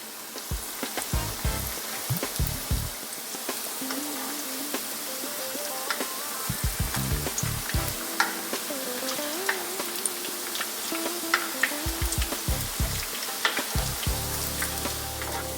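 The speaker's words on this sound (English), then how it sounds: "And gently frying." Chicken pakoda pieces gently fry in a pan with a steady crackling sizzle and occasional spattering pops, close up and continuous throughout.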